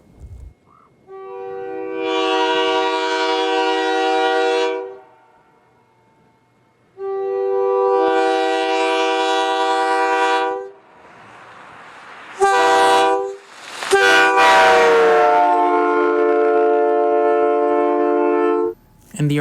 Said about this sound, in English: The locomotives would both be equipped with Nathan K3L air horns.